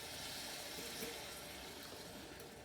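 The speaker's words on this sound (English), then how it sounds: "We're going to add our coconut milk" Coconut milk pours from a can into a pot of sweet potato curry, a faint continuous liquid gush and splash with soft room noise.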